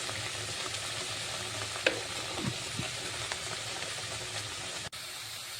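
Spice paste with turmeric and salt sizzles steadily in a pan, a continuous close frying hiss with a few soft scrapes of stirring partway through.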